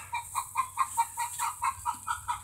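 Chickens on a small micro farm cluck near the coop in a steady rhythmic series of close, moderately loud calls, roughly four per second, with no talking over them.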